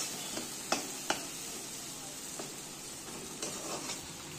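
Kolkata-style masala veg chow mein noodles frying with vegetables in a pan give a faint, steady hiss, with a few light scraping clicks as they are tossed and stirred.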